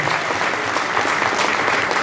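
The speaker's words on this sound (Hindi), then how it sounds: "तो उनके लिए जबरदस्त ताली होनी चाहिए" An audience at a Vestige business event claps for an upline on stage, a dense, loud and steady wash of applause throughout.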